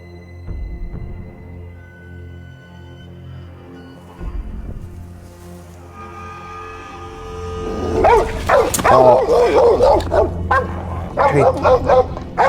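Dogs barking and yipping in an episode of The Last of Us TV series, the barks building into a loud cluster of repeated yelps after quieter low rumbles and sounds at the start.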